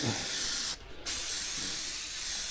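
Steady, loud hiss of a spray paint can coating a steel mailbox framework, briefly cut off for a moment before spraying resumes continuously.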